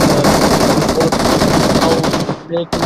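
Loud, continuous automatic gunfire from a competitive battle royale match at a ranked-series grand final, with rapid overlapping bursts that cut out near the end, leaving a short gap and a faint tonal blip.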